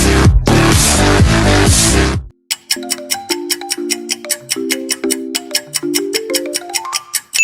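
The KFC audio logo jingle follows the loud tail of another sound. It plays as a bright, plucked melody of quick repeated notes that steps upward, clear and close with no voice over it.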